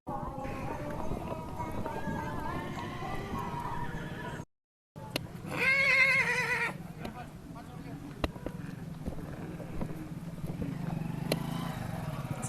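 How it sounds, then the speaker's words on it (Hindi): A horse at the Pushkar cattle fair in Rajasthan whinnies loudly mid-clip amid busy fairground noise, with people talking, hooves clip-clopping and a motorbike passing nearby. "संभाल में नहीं आ रहा ये घोड़ा"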